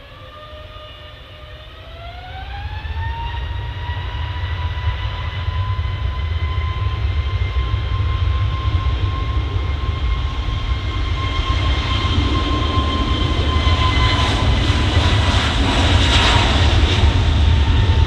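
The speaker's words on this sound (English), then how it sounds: "EasyJet lined up on runway 23 left, A321 neo, looking rather snazzy I might say, off to Lisbon" An EasyJet Airbus A321neo taking off from runway 23 left, engines spooling up with a rising whine that settles into a steady tone, then a loud sustained roar that grows heavier with rumble.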